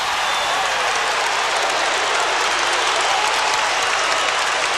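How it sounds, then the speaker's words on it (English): Dense, sustained applause from a large crowd at a college basketball game fills the space, loud and continuous without pause. "As Pitino clapping"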